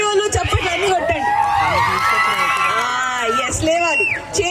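A crowd at a wedding sangeet cheers, whoops and shouts loudly and continuously, a lively babble of excited voices filling the room at close range.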